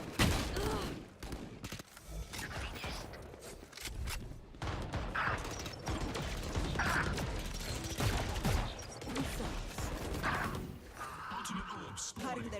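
Gun reloading clicks and mechanical clatter in Valorant, mixed with bursts of gunfire and game effects, heard under near-constant talk across a busy stretch of play.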